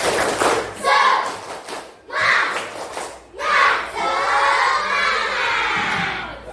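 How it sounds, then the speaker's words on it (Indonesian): A class of schoolchildren doing a clapping chant, loud bursts of shouted rhythmic chanting with claps, repeated in several phrases close by and filling the room. "Silakan tepuk tangan dulu. Nah, mari kita tepuk semangat, ya."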